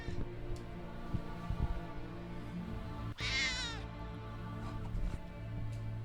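A house cat gives a single clear meow in the middle, heard close over steady room hum with faint background noise.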